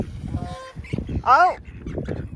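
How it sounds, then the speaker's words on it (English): Outdoors on Guy Fawkes Night, a goose gives one loud, close, harsh honk that cuts through people talking, with another brief call earlier. "It's an enormously honky goose."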